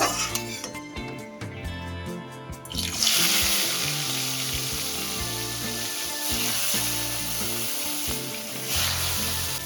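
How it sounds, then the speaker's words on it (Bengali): Rohu fish pieces hit hot oil in a wok with a loud, sustained sizzle that swells after a few seconds of clinking and continues steadily, close up with no talking. "মাছটা ভাজার জন্য তেল দিলাম"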